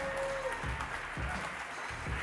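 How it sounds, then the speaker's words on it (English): A crowd at an NYU student rally claps along in a steady rhythm, with regular thumping beats and a faint tone beneath the noisy outdoor gathering. "clap it up NYU"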